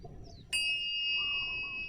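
A meditation bell is struck once in a quiet yoga setting, giving a bright, clear ding that rings on with a long sustained shimmer close by.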